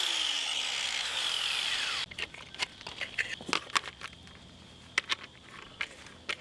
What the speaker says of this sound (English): he's using a 60 grit flapper disc first.